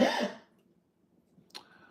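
A single harsh cough up close, followed by quiet and a brief throat-clearing sound near the end.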